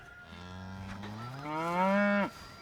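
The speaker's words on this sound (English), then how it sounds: "Get back, cow. Don't even think about it, cow." A cow on a farm gives one long, loud moo that starts low and rises in pitch before cutting off sharply, close by and heard alone with no talking.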